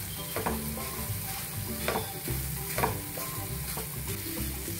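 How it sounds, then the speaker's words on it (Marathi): Khawa roasting in ghee in a pan makes a soft continuous sizzle, with a utensil stirring and scraping in a loose, repeated rhythm, close and fairly quiet, and nobody talking. "अजून थोडासा रंग बदलेपर्यंत आपण परतणार आहोत 1-2 मिनिटं"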